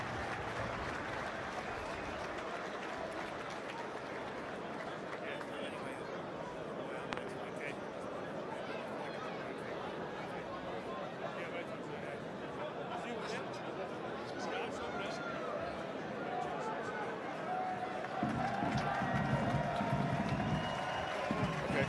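A rugby stadium crowd at Connacht v Ulster murmurs and chatters steadily, swelling into cheering toward the end, under a commentator's voice.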